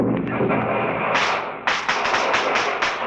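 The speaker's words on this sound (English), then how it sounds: "The fireworks! The fireworks!" Fireworks burst in a 1939 radio drama sound effect, a run of sharp booming cracks and rapid popping reports that grow denser toward the end, loud and close with no talk over them.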